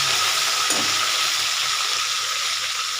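Garlic paste frying in a pan gives a steady, loud sizzling hiss that barely changes across the few seconds, with no voices over it.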